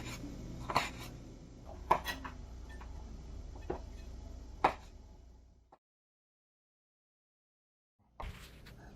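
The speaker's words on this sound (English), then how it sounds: "now I cut the Chinese sausage into diagonal" A knife slicing Chinese sausage diagonally taps and scrapes against a cutting board in a handful of short, uneven strokes, then everything falls silent before a brief final knock.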